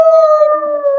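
A werewolf lets out one loud, sustained howl, held at an even pitch for about a second, with nothing else around it.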